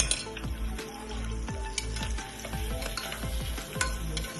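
Sliced large onions sizzle and crackle steadily in hot oil for a Telangana booti curry tempering, with repeated stirring scrapes of a spoon against the pan, close and continuous with no talking.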